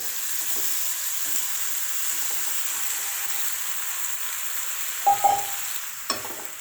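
Steady sizzling of pasta frying in hot oil with Indian-style tempering spices, with a few louder clatters and scrapes of stirring near the end.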